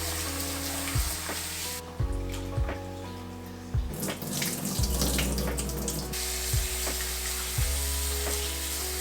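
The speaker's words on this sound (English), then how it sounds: "I'm gonna wash these potatoes and then I'll leave them in water." Potatoes being washed under a running kitchen tap, a steady hiss of flowing water with irregular splashes and knocks as they are handled, fairly close and heard without any talk.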